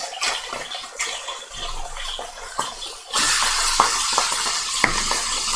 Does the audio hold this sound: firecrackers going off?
no